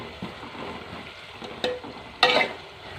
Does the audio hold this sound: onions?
yes